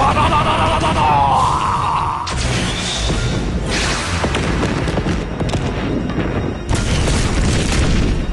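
A giant fireworks special attack in the mobile game The Seven Deadly Sins: Grand Cross bursts in loud, heavy booms with sweeping whooshes. A voice sounds partway through the barrage.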